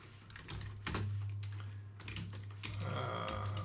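Steady typing on a computer keyboard, close and continuous, with rapid key clicks under a low background hum as script names and commands are entered.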